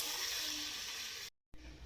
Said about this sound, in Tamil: இதில் இப்போ நம்ம தண்ணி ஊற்றிடலாம்